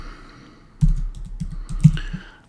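Keystrokes on a computer keyboard while building a database table in Access, a few soft taps and then a denser burst of clicks, close and moderately loud over a low hum.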